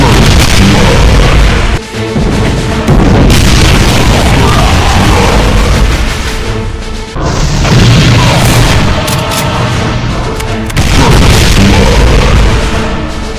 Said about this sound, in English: A volley spread of dark matter shots.